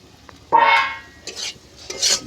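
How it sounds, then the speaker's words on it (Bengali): Chopped tomato and fish curry ingredients sautéed in a pan, a short burst of scraping and sizzling stir strokes, followed by two softer stirring rubs. "সব উপকরণ আমি এইভাবে কষিয়ে নেব।"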